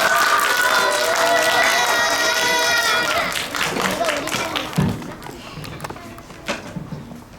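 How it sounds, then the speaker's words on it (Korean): Students clap for the next speaker at a school career fair, a dense wash of applause filling the first three seconds and then thinning into scattered claps and room murmur. "큰 박수 부탁드려요."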